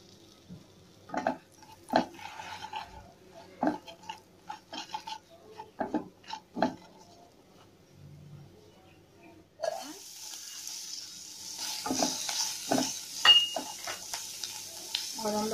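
Mustard seeds and cumin dropped into melted butter for masala oats upma: a few light utensil clinks and taps come first, then a bright, close sizzle bursts in partway through and keeps crackling to the end.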